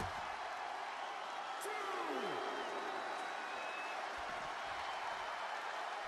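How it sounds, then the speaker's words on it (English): A raucous arena crowd roars and cheers at a televised Raw wrestling show in WWE 2K20. The dense, steady wash of noise runs throughout, with commentators talking over it. "What a raucous crowd here tonight."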